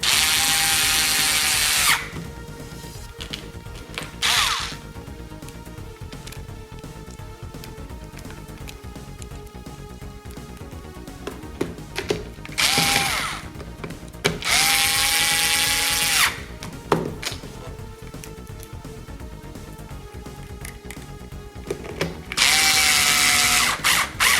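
A power screwdriver drives screws into the plastic case of a Ctek MXS 5.0 battery charger, with several loud whirring bursts of varying length separated by quieter pauses, close up.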